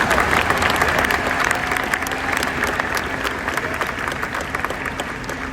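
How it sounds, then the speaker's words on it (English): A large commencement crowd at the University of Maryland claps in sustained, dense applause, loud and even from start to finish with scattered cheers mixed in. "I'm gonna give her a round of applause too"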